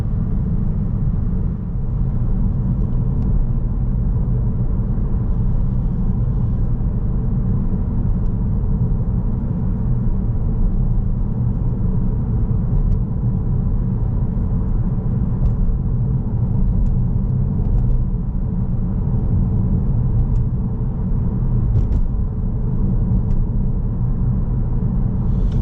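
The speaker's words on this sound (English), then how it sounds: "So we drive through the hazard, scanning both ways with our hands back on the steering wheel and in a flexible gear" A car driving along Shirley High Street in Southampton during a driving test, its engine a steady low rumble with road noise, continuous and fairly loud throughout, with no talk.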